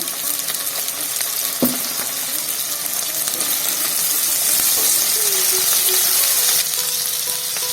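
Ivy gourd (dondakaya) fries in a pan with turmeric and salt. A loud, steady, close sizzle runs throughout with a few faint stirring knocks.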